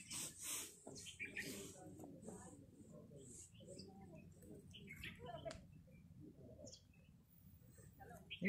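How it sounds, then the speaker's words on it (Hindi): Faint, scattered bird chirps and calls ring out in a very quiet hill orchard of kiwi, peach and apple trees at Fagu, with soft low background noise between the calls. "साफ साफ पक्षियों की आवाज आपको सुनाई दे रही होगी"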